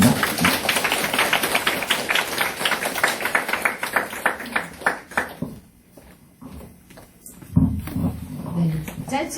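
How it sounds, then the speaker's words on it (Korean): Audience applause after a university lecture at a teaching workshop, dense clapping from many hands filling the room for several seconds, then thinning out and fading before a brief final burst of claps. "다시 한번 박수 부탁드립니다."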